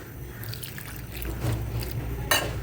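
Water is poured over vegetables seasoned with turmeric, chili powder and salt in a cooking pot, a soft continuous trickle and splash with a brief brighter splash near the end.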